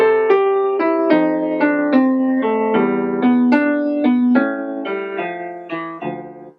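Piano plays a short melodic phrase of about a dozen distinct notes in a lilting swung triplet rhythm, clear and close with no voices, and the last note rings out.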